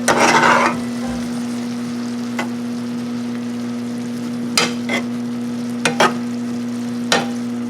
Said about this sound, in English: we'll give the onions a stir